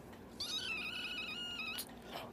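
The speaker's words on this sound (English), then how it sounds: "we got a new addition to my family. It's a kitty." A new pet kitten gives one drawn-out, clear meow, close and fairly loud, followed by a brief rustle in a quiet room.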